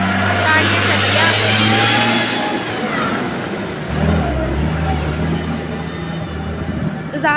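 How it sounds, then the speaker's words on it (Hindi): Traffic in a busy Indian market street: a constant wash of car and truck engines, close and loud throughout, with voices mixed into the din. "बाज़ार में हूँ, तो यहाँ पे गाड़ियों की बहुत ज़्यादा आवाज़ आ रही है"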